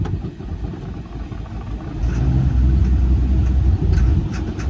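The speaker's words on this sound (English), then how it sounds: "It's sputtering. And that's the valves chattering. But then she'll kick into gear." An old engine with a suspected carburetor or clogged fuel filter fault and chattering valves sputters and rumbles unevenly as it is put into gear, its low roar swelling midway and staying rough and close.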